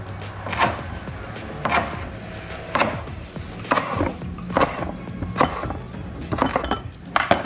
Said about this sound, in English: And then the rest I'm just gonna kind of roughly chop.